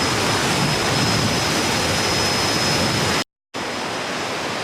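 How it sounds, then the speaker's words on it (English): A waterfall in Transkei, South Africa, gives off a constant, dense rushing roar, loud and unbroken apart from a brief cut to silence near the end before the roar returns. "It's time to say goodbye to the lovely waterfall."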